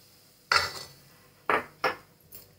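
A spoon works hot ghee into semolina and flour in a bowl, making four short, distinct scraping knocks against the vessel, the first the longest, the last the faintest, with no voices.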